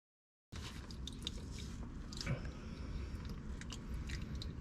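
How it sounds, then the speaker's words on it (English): Motor oil drips from the underside of a 2021 widebody Dodge Challenger Scat Pack into a Ziploc bag during an oil change, a soft, close wet patter with scattered small drip ticks over a steady low background. "A little bit is dripping."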